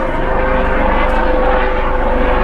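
A police helicopter flying overhead gives a loud, steady rotor and engine drone that holds constant throughout, with no voices.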